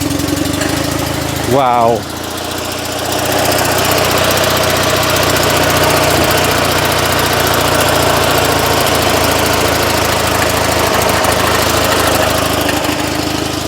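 An old Invacar invalid carriage's small engine runs at a steady, buzzing idle with a slight knock, close and loud, after a brief revving swell near the start; one short exclamation comes through.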